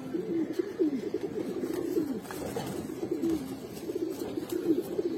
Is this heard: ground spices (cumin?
no